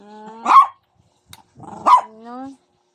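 Two short yelping barks from a puppy, close by and separated by a brief pause, with a lower harmonic whine trailing the second one.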